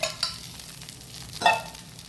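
Dosa batter cooks on a hot pan with ghee and oil, giving a soft, quiet sizzle broken by a few brief scraping or stirring touches.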